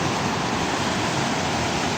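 Creek water rushing continuously nearby, a dense steady broadband hiss and gurgle with no pauses and no voices.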